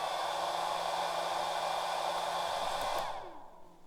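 An Elegoo heater's fan roars loudly in a steady broadband rush with no talk, then cuts off abruptly near the end and fades to quiet.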